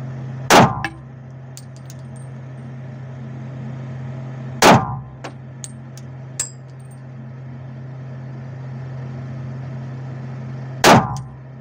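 Three sharp metallic clangs of gunshots hitting steel targets at a shooting range ring out several seconds apart, each a loud ping off steel with a short ringing tail over a steady low hum.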